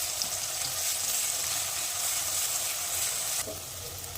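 Tomatoes and onions fry in a pan over a low gas flame, giving a dense, steady sizzle with a brief stir or scrape near the end and no talking.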